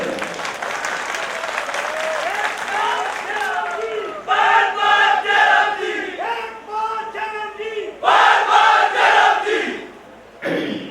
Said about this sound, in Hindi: अब आज भी मेरा दिल खुश करने के लिए ताली तो बजा रहे हैं, जय श्री राम भी बोल रहे हैं।